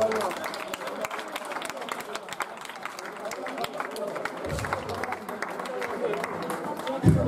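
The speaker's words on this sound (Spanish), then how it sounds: "Un aplauso para los dos." A crowd at a frontón tournament applauds the players after a semifinal, with steady scattered clapping and murmuring voices that continue for several seconds.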